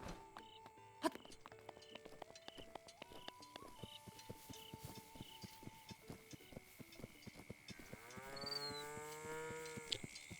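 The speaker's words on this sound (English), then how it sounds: "Did you guys hear a cow?" A cow moos in the video game Breath of the Wild, a long lowing call with a bending pitch near the end, heard amid busy game music and sound effects with no talking.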